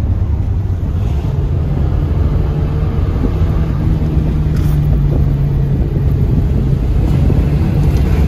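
A Peugeot 205 rally car with a 2-litre engine drives along a mountain road, and a steady low engine drone sits under heavy wind buffeting throughout.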